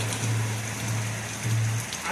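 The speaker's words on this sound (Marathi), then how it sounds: "भर पावसामध्ये आता तुम्ही तर आली पा एवढा पाऊस छान होताना" Heavy rain falls in a steady, dense hiss of drops striking surfaces, constant and close, with a low hum underneath and no talk.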